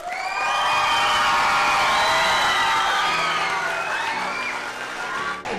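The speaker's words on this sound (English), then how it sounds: "Let's give a cheer," Students cheer, whoop and shout for the Run For The Wall motorcycle riders, a loud, sustained crowd roar that stays near and full for several seconds before easing slightly.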